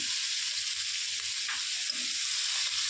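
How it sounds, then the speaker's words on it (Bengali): Chopped onions hit hot oil with whole cumin seeds, giving a steady, close sizzling hiss throughout with faint stirring underneath. "এবার আমি কুচনো পেঁয়াজগুলো দিচ্ছি"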